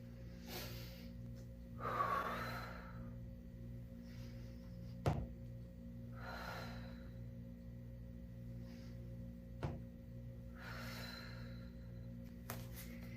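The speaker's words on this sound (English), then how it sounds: "I'm using my exhale when I do that deadlift and I lift the kettlebell" Strong exhales during kettlebell deadlifts, several breathy rushes spaced a few seconds apart, with sharp thuds from the weight and a steady low hum behind.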